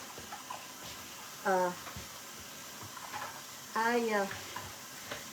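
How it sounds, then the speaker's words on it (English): Biscuit dough for cheesy drop biscuits being stirred by hand in a bowl, with two short bursts of wet, squelchy stirring standing out from a quiet kitchen background of faint clatter. "am gonna stir this a bit with my hand, just a little bit"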